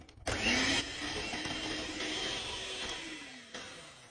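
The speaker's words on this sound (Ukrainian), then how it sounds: "Додаємо 3 яйця, 3 стакани цукру і збиваємо міксером." A steady electric mixer whirs continuously, beating eggs and sugar with a dense, buzzing drone that shifts slightly in pitch.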